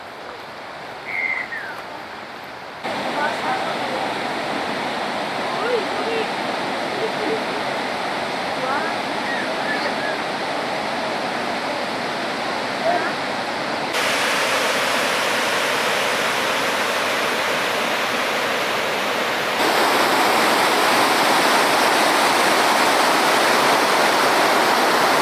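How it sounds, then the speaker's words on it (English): Roaring rush of the Bow River waterfall in Banff, Alberta, a steady broadband wash heard up close, growing louder in steps, with a brief bird chirp early on. "Waterfalls."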